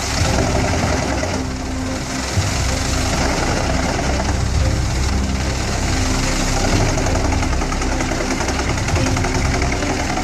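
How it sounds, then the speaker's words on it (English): A PTH 1200-820 forestry wood chipper engine runs steadily, a loud dense mechanical drone with constant vibrating hum and no pauses throughout. "The deep growl of the engine blends with the sharp crack of wood splitting"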